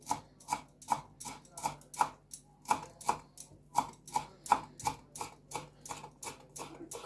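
Knife chopping fresh coriander sprigs on a board: steady, close, rhythmic cuts at about two to three strokes per second, continuing throughout with no talk.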